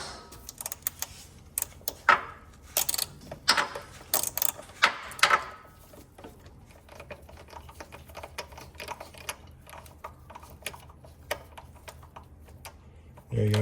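A Torx T30 driver fastens the control arm bolts on a Porsche GT3/GT4, giving close, quiet ratcheting clicks in irregular bursts, with sharper ticks early on and a sparser clicking rhythm afterward.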